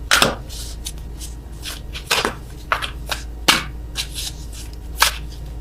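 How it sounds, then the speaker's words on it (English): Tarot cards are shuffled in short, crisp bursts, with riffling and snapping sounds at irregular intervals, close up and fairly loud. "I am awful at attempting to shuffle these."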